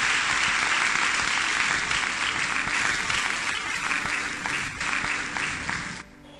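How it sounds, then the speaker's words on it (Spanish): A church congregation applauds at the close of a worship service. The clapping is dense and sustained, then cuts off sharply near the end. "Denle un aplauso a su Señor."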